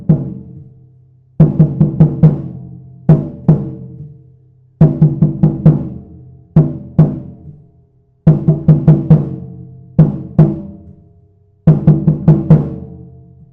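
A surdo drum plays samba reggae, repeating bursts of rapid 16th-note strokes that roll into a heavy downbeat, loud and close with short gaps between phrases.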